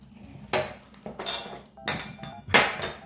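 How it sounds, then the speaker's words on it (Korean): Knife chopping vegetables for jjamppong on a cutting board, four separate sharp knocks spaced roughly half a second to a second apart, close and fairly clear against quiet kitchen background. "야채는 별거 없습니다. 그냥 썰어 주시면 돼요."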